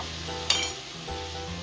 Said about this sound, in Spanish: Lo que voy a hacer es revolver, ahora que ya se ha dorado ahí un poquito